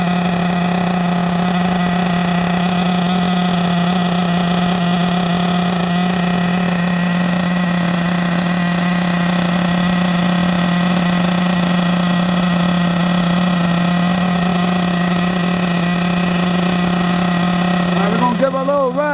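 A Team Associated MGT nitro RC monster truck idles steadily for a long stretch, a loud, buzzy, high-pitched two-stroke drone close by with an unchanging tone, catching a quick blip of revs right at the end.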